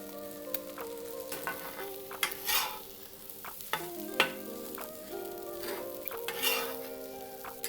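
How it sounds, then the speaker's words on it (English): Day-old rice hits a hot Steelmade flat top griddle, sizzling steadily while a spatula clinks and scrapes across the steel in irregular strokes, close and clear with no talking. "So I'm gonna take some of that day old rice. We're gonna go directly onto there right now."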